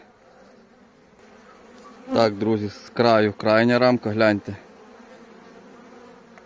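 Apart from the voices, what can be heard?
honeybees buzzing around a hive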